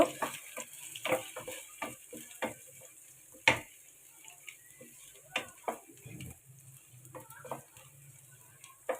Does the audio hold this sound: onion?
yes